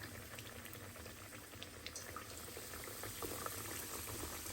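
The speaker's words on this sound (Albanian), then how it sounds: "tash i morën filet pulës edhe i qesim në tigan, ku edhe i kavadisim" Chicken fillets laid into hot oil in a pan, giving a faint, steady bubbling sizzle that continues evenly throughout with no voices.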